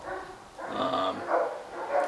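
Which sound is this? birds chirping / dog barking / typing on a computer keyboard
dog barking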